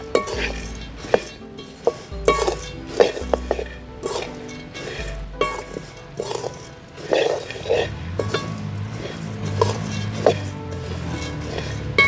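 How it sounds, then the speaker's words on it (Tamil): Masala puffed rice (pori) being stirred in a pan, with repeated scraping and clinking of a utensil against metal in irregular bursts, close and moderately loud, with no talk. "எல்லாமே ஒன்று சேர்ந்து கலந்து வர மாதிரி கிளறிக்குவாங்க"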